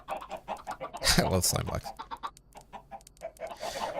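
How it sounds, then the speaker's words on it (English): Chickens in Minecraft cluck in short repeated bursts, with a louder flurry near the start, under someone talking casually. "Chickens making a bunch of noise because that's what chickens do."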